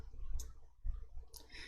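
A computer mouse clicks twice, faint and crisp, during work in an Excel menu, the two clicks about a second apart over quiet room tone.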